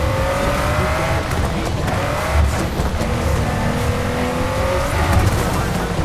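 A Nissan GT-R R35 races in Forza Horizon 5, its engine note holding a steady loud drone with gear-change shifts and brief tire squeal, with faint talk underneath.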